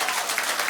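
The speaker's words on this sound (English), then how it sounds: "Clap if you lived in the city when that happened." Brief, moderately loud applause from a stand-up comedy audience in Toronto, a dense wash of many hands clapping at once.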